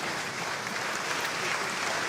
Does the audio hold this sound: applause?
yes